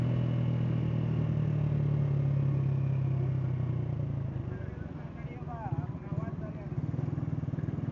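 Honda CG 125 motorcycle riding along a road, a steady low engine drone that drops and becomes choppier and rougher partway through, heard fairly close, with a voice speaking over it.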